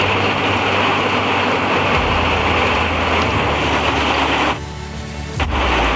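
Loud thunder following a lightning strike in a summer storm: a deep, heavy rumble that builds under the steady roar of heavy rain, then drops away sharply near the end.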